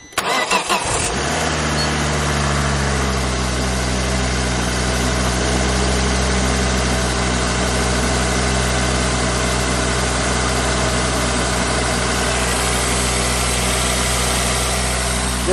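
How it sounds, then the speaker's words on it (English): A car engine cold-starts with a short cranking burst, then settles into a steady, loud idle with a low, even hum that runs on alone to the end. "Here's a cold start from the next day."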